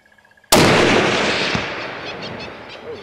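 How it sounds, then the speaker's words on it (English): A single sharp rifle shot cracks loudly during a long-range warthog hunt outdoors, followed by a long rolling echo that fades over a few seconds. "Nice shot, John."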